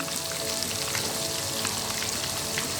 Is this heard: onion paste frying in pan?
yes